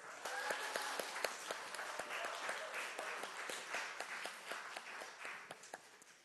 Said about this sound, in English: So let's give Louise a round of applause.